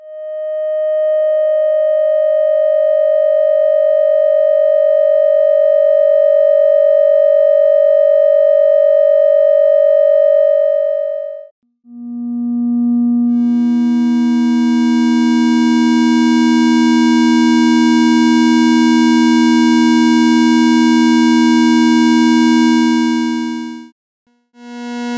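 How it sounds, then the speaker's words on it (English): A single steady sine tone from a modular synth hums alone, then cuts to a thicker, buzzier blend of several sustained tones mixed through an audio mixer that holds loudly before briefly dropping out. "Now let us mix some waves using a regular audio mixer"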